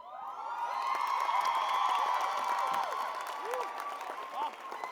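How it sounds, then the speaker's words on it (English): A school holiday show audience claps and cheers loudly for dancers, applause swelling and sustained with whoops and shouts scattered through the crowd. "Can we give them a round of applause?"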